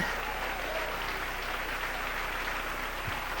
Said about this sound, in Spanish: Denle un aplauso al Rey en esta noche